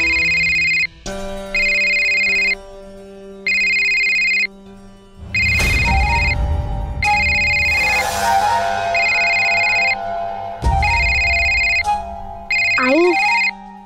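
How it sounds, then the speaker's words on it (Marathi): A mobile phone ringtone plays loudly and clearly in a home, repeating in steady bursts with short pauses, while people talk over parts of it. "अगं रेवती मॅडमचा फोन आहे."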